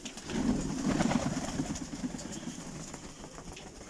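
Pigeon cooing softly in a loft or yard, a fairly steady low murmur of coos across the whole stretch with a faint engine hum beneath, no talk.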